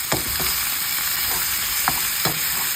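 A pot of beef pares with star anise sizzles steadily while a spoon stirs it, giving a few distinct scraping knocks against the pot over a constant loud hiss.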